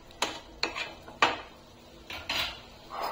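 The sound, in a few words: bottle gourd halwa being transferred into a bowl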